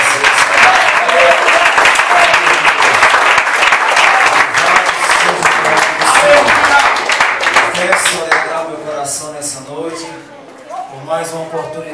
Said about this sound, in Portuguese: Aplaudo Jesus porque ele merece